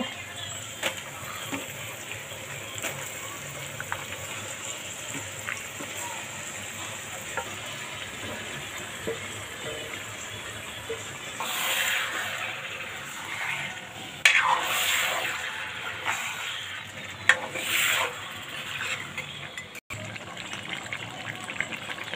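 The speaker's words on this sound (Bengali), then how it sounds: "এবারে আমি হাঁসের মাংসটা দিয়ে ভালোভাবে কষিয়ে নেব" Duck meat frying and being stirred in a pan, a low steady sizzle with occasional stirring scrapes and louder bursts of spattering, close and fairly quiet over about twenty seconds.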